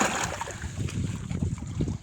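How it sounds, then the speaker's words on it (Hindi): Water pumped from a well by a solar pump gushes and trickles steadily at close range, with faint gusts of wind. The flow stays fairly loud throughout and no one speaks. "और वो पानी जा रहा है"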